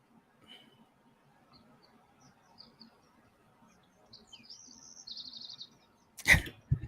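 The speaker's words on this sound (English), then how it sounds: "I hear the birds over there, bro, where you're at." Birds chirping outdoors, faint and distant, with scattered short calls and a brief brighter trill, ending in a sharp loud click.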